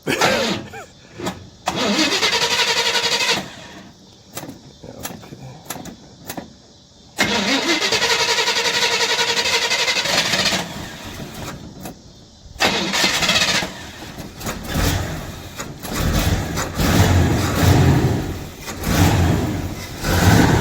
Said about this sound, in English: so now we're going to start the car up